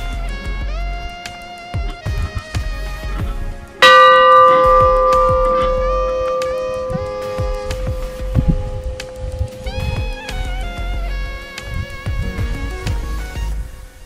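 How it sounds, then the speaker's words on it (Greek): A pulled bell is rung to ask for entry, giving one loud clanging strike that rings out and decays for several seconds, with fainter bell tones and rustling before and after. "Την καμπάνα τράβα. Όπως είναι το κουδούνι. Για να μας ανοίξουν."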